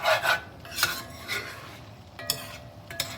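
Utensil scraping the bottom of a pan of stir-frying sesame teriyaki shrimp, a few short rasping strokes at an uneven rhythm over a soft sizzle, close and fairly quiet.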